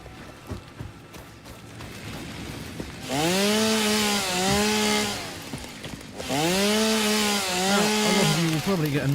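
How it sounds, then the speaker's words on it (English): A chainsaw in the video game Satisfactory revs in two loud sustained bursts, each climbing and wavering in pitch before dropping back to a quieter background with faint clicks. "Probably get annoyed by the constant chainsaw noises, so feel free to mute if you want."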